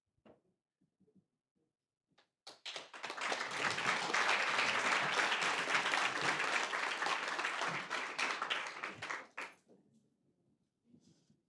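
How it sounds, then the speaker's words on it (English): Audience applause after a talk on personas and profits, a burst of clapping that swells quickly, holds steady and loud for about seven seconds, then tapers off with a few scattered claps. "give another round of applause"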